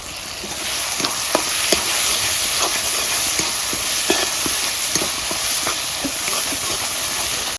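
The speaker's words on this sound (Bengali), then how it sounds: "মশলা কষানো হয়ে গেছে" Ground spice paste with turmeric and salt sautéing in a pan for a home-cooked chicken curry, a steady loud sizzle and hiss with occasional scraping stirs.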